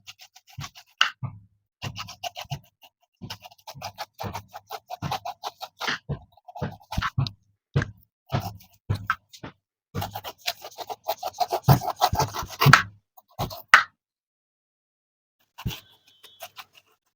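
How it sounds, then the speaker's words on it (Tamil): A knife slices away the tough, spiky skin of a fresh pineapple in a home kitchen, making close rasping, scraping cuts in uneven bursts with short pauses between strokes, with no one talking. "வாங்க நம்ம பைனாப்பிளை கட் பண்ணலாம்."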